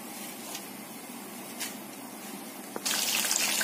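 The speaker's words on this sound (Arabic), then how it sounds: "هرجع بقى احطها في الزيت بالشكل ده" Seasoned tilapia fish goes into hot oil, a steady hiss of frying that suddenly swells into a loud, bright crackling sizzle near the end as the fish hits the oil.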